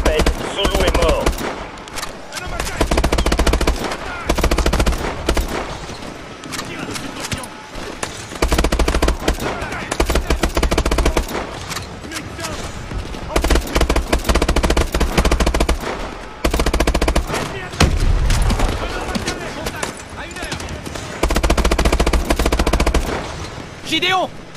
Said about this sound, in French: cette tourelle mobile est toujours opérationnelle. Alors que quelqu'un s'en sert.